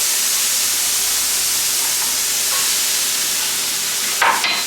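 Crab pieces sizzle in a hot pan with cooked garlic, a steady close frying hiss throughout, with a brief louder spatter near the end and no talking.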